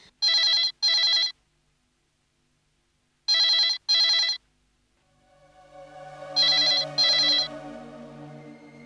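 A telephone rings in paired bursts, twice and then again after a pause, loud and clear in a quiet room, with a low hum creeping in toward the end.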